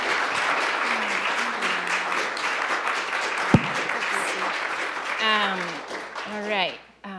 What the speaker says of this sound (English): Let's give an applause to Yuria.